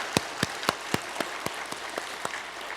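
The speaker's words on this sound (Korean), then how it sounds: "우리 시원찬양대 우리 격려의 박수" A church congregation claps for the choir during a Sunday service, about a dozen distinct, evenly spaced claps at a moderate, steady rhythm, close and fairly loud.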